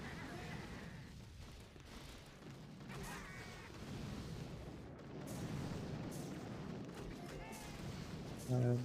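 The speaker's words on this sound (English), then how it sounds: "I can try to take out this shock launcher with some barrages." Artillery barrage in the mobile strategy game Boom Beach, aimed at a shock launcher: steady rumbling booms and blasts layered with battle noise, with a sharper hit near the end, mostly continuous rather than separate shots.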